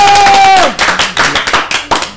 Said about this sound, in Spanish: ¡Aplauso para él! ¡Bravo!